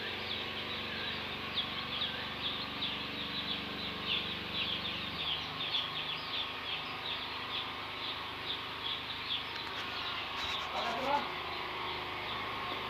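Broiler chickens in a farm house of about 1500 birds chirp and cluck in a dense, steady chorus of rapid high peeps, with a low hum and someone talking in between.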